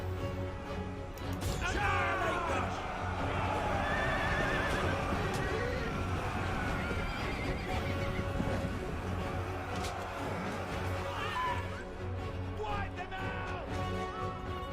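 Scout horses neigh and hooves clatter in a battle in the video game Total War Saga: Thrones of Britannia, a dense continuous din of whinnies and trampling, with speech running over it.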